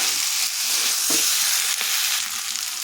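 Winter vegetables sizzle in a hot pan over raised heat while being stirred, a dense continuous hiss with a couple of sharp spatula scrapes, close and fairly loud with no talking.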